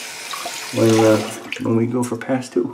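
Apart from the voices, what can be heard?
water running from tap while shaving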